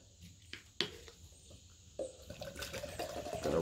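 Muddy kava drink is rinsed out and poured into a French press, giving a faint, close splashing and trickling of liquid that builds toward the end, with small clinks earlier.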